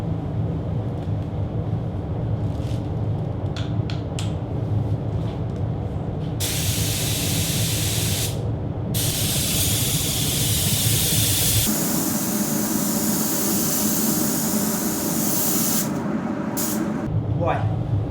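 A spray gun lays a semi-wet coat of paint onto a car body panel in a repair shop, giving several long bursts of loud, close hissing that start and stop cleanly, over a steady background hum.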